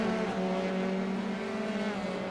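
A Formula 3 race car drones past at Sonoma with a steady, high-pitched engine whine holding a constant tone, loud and close, with no voices.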